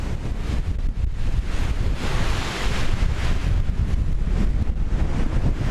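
Strong wind roars and buffets a microphone continuously on a mountain pass in the Karkonosze, a dense rushing blast with low rumbling gusts and no voices.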